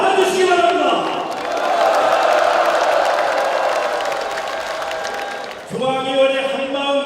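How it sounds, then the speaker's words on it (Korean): A crowd at a Liberty Korea Party central committee rally applauds and cheers loudly for several seconds, a dense wash of clapping with a brief dip before it swells again. "박수로 맞아주시기 바랍니다."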